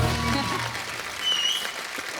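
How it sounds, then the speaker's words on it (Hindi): A studio audience claps for the performers at a comedy show, a moderate, steady wash of applause with a voice briefly over it at the start. "जोरदार तालियां हमारे सारे कलाकारों के लिए"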